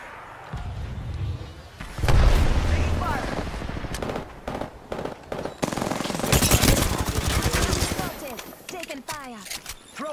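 Video game combat with rapid machine-gun bursts and heavier blasts, loud and close, rising and falling in waves over about ten seconds while voices speak over the fighting.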